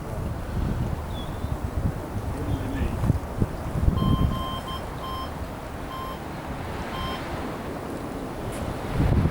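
Steady wind buffeting a camera microphone outdoors while kiting, a constant rumbling roar that swells and fades, with a few faint electronic beeps and occasional voices in the background.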